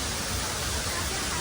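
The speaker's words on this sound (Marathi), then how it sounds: "मस्त हा धबधबा आहे" Waterfall at Raigad fort, a steady broadband roar of falling water, continuous and fairly loud with no pauses across the moment.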